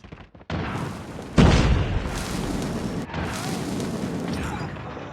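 A grenade blast in the mobile shooter Call of Duty Mobile lands as a sudden loud boom with a rumbling tail, followed by ongoing battle noise and another burst of gunfire.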